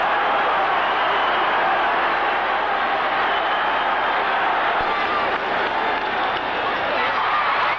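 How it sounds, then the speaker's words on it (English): Baseball stadium crowd at a 1984 St. Louis Cardinals game with the bases loaded, a broad, steady roar of cheering and hubbub filling the whole stretch without letting up. "Listen to the crowd."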